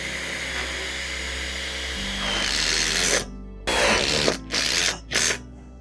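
A power drill drives self-tapping screws into the steel bows of a caterpillar tunnel, with a steady whir that rises in pitch and then cuts into several short, loud bursts with brief pauses between them.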